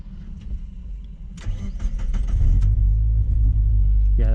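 A Mazda MX5 engine misfiring in limp mode idles roughly and revs unevenly, its low rumble stumbling and surging close by, with faint clicks and voices in the background.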